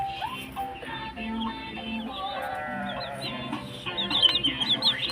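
Baby chicks peeping in a cage, many high thin chirps overlapping in a busy, close chorus that grows louder and more excited toward the end.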